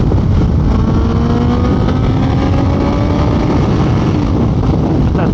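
A heavy, long-wheelbase motorcycle accelerates hard, its engine a loud, steady, continuous roar with rising harmonic tones that climb through the gears and carry no pauses.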